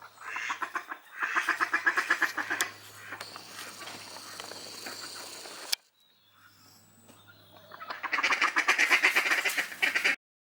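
A group of geese honk and cackle repeatedly in noisy bursts, fading for a moment and then rising again close by.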